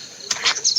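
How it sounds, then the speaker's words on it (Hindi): Birds chirp on a quiet early-morning street on the way to Murudeshwar, short bright high-pitched calls in a brief burst, fairly near and alone. "चिड़िया चहक रही है"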